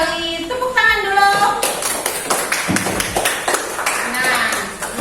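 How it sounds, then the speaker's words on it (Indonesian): Audience members clap briefly after a group presentation in a classroom, a scattered burst of hand claps mixed with a tonal chime at the start and a speaking voice over the top. "Bagi tepuk tangan dulu."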